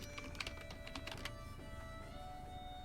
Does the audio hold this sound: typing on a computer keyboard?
yes